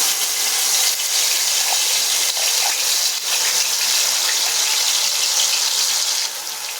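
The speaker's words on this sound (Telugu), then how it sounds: "ఇవంతా కూడా చక్కగా ఆయిల్లో ఉడికిపోతే పచ్చివాసన పోయేంత వరకు కూడా ఇలాగే ఉడకనివ్వండి" Ground onion, tomato and ginger-garlic paste frying in hot oil in a pan, giving a loud, continuous sizzle with no talking.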